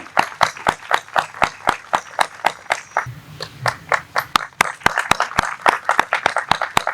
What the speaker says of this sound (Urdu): ہم سب تالیاں دیں.